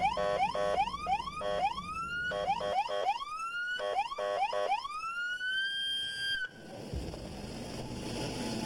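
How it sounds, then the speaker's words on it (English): An Alaska State Trooper patrol car siren wails and yelps through rising, repeating electronic sweeps, loud and close, then cuts off abruptly into a rumbling engine and road noise. "We put the front of a car and just turn a siren on, kind of like an alarm, maybe."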